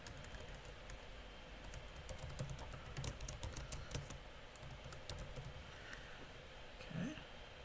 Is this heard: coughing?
no